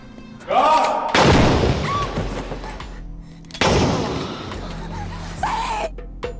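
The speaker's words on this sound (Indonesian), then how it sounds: "akhirnya Said langsung menembak si kapten. Dan juga menembak kakinya sendiri" Gunshots in a film scene from Lost (2004, season 1) as a captain is shot, loud sharp blasts around 1 and 3.5 seconds with echoing tails, mixed with dramatic score and shouted voices.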